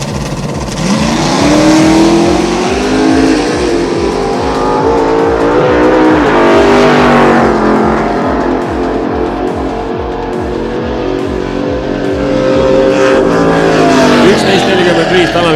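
A drag racing Audi roars down the strip at a European drag racing national event, engine climbing loudly through rising revs and gear changes over about fifteen seconds, with an announcer's voice and crowd noise mixed in.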